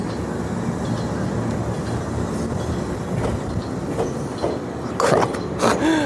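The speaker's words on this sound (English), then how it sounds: "See this train go." A retro train departs a station near Tokyo, Japan, rolling steadily nearby with a low rumble and rhythmic wheel clatter, building to louder clanks and screeches near the end.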